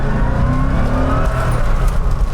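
A 1990 Chevy Corvette ZR1 in performance mode runs at full power, producing a loud, steady, low engine drone with a faint whine on top, heard close from inside the car.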